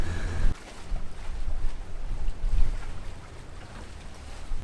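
A sailboat motors with its engines running, a steady low rumble mixed with broad wind and water noise, loud and continuous with gusty swells of hiss.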